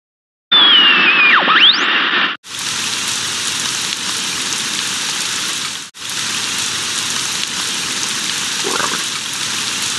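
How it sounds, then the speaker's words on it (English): Light rain sound effect from the Sammy's Science House computer game: a steady, dense hiss of falling drops that begins after a short tonal chime and continues alone, broken by two brief dropouts. "Today is warm with light rain and no wind."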